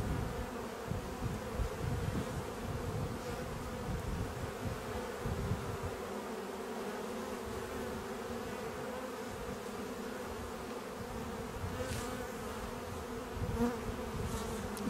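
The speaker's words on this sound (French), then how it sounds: "On regarde aussi les abeilles, si on ne voit pas d'abeilles avec des ailes atrophiées." Honeybees buzz steadily around an opened nucleus hive box during a colony inspection, a continuous, fairly quiet drone of many wings lasting the whole stretch, with no talking.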